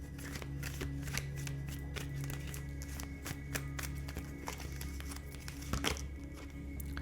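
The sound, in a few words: shuffling a deck of oracle cards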